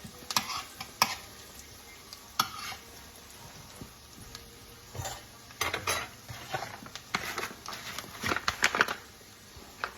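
Utensils stirring flour into a sautéed mix in a pan for canned green beans, giving a steady run of scraping, clinks and taps on the pan with a faint sizzle underneath, close and moderately loud with no talking.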